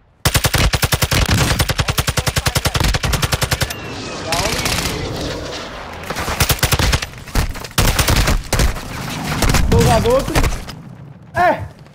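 Loud rapid automatic gunfire from Call of Duty: Modern Warfare II rattles out in long bursts, then breaks into shorter volleys and scattered shots mixed with other game sounds and some voices.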